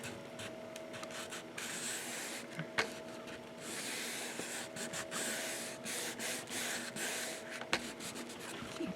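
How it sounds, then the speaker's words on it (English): Bookbinding tool burnishing a paper cover against the spine of an album, a soft continuous rubbing and scraping in uneven strokes with occasional light taps, quiet and close. "Let's burnish."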